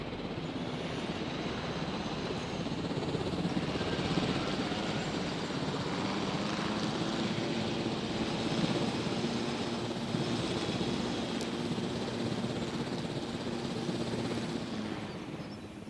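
A helicopter in the video game Jurassic World Evolution flies steadily, its engine and rotor drone holding loud and continuous throughout, with no other sounds standing out.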